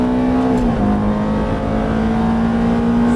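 Ferrari F430 engine on a race circuit, a loud steady in-cabin drone that holds a high pitch, dips briefly as if shifting, then climbs back and pulls on continuously.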